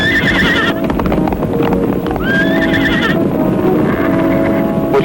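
Horses whinny loudly several times over steady clip-clopping hooves, close and busy, with a second neigh answering partway through.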